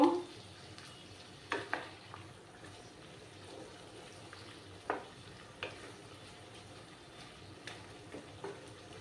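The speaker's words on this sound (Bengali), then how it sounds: "2 চামচ আদা রসুনের পেস্ট দিয়ে দিলাম। দিয়ে ভালো করে নাড়াচাড়া করব।" Ginger garlic paste frying in a pan for mutton masala curry, with a soft steady sizzle and a few scattered scraping and stirring knocks at uneven intervals, fairly quiet throughout.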